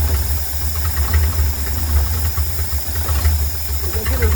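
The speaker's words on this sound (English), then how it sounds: "She's idling, but she ain't revving yet, guys." A small engine idles close by with a steady, low, knocking rumble and a little hiss, running smoothly without revving.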